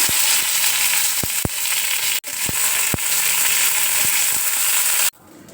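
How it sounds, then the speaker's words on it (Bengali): Curry leaves dropped into hot oil already spattering with mustard seeds give a loud, crackling sizzle, broken by several sharp pops and clacks, before cutting off abruptly near the end. "এবার দেখো কারি পাতা দিয়ে দিচ্ছি।"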